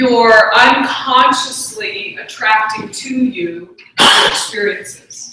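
A man lecturing in a room is cut off by a sudden close sneeze, then resumes speaking.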